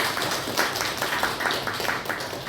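A church congregation claps during a Korean Sunday morning worship service: a faint, brief patter of many hands over about two seconds, with distinct clap bursts at a distance.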